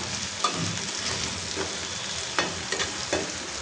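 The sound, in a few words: spice paste frying in oil in a pan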